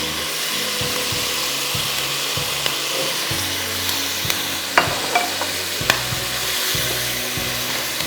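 Chicken frying in a pan makes a dense, close sizzle throughout, punctuated by a few sharp clinks and scrapes of a utensil in the middle, fairly loud and free of speech.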